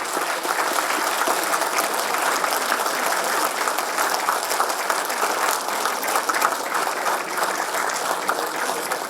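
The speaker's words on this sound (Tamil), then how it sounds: "அவருக்கு மிகுந்த பெரிய கரகோஷத்துடன் வரவேற்போம்." A packed audience at a stage event applauds to welcome a guest, producing loud, dense, continuous clapping that stays steady from start to finish with no speech.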